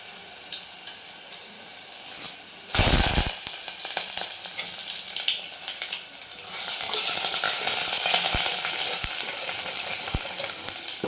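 Crushed garlic and curry leaves dropped into hot oil with cumin, a sudden loud sizzle bursting in, easing, then swelling into a steady crackling fry with occasional stirring clicks.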